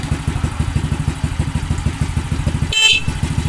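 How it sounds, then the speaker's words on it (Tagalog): A motorcycle engine idles with a rapid, even putter, then a short, sharp horn beep sounds once near the end. "Isang busina natin."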